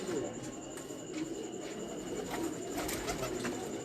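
Pigeons coo during a pigeon-flying competition, soft repeated calls under a steady outdoor wash of noise, with faint voices in the background.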